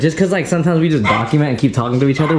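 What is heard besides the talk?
dog barking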